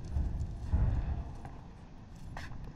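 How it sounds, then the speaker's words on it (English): The alien crawling through the vents in Alien Isolation, faint muffled thumps and shuffling clatter overhead, with a brief swell of heavier knocking and a few sharp ticks in a quiet, tense space. "I hear him crawling through the vents"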